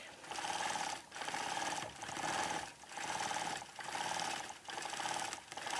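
A sewing machine stitching a quilt runs in steady bursts of rapid mechanical whirring, about six short runs separated by brief pauses, fairly quiet and close with no talking.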